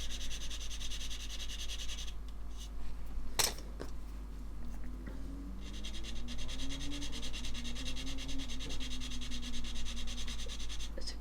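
Sanding stick rubbing along a plastic model seam, a steady close scratchy rasp over a constant low hum, with one sharp tap midway and a faint wavering tone underneath.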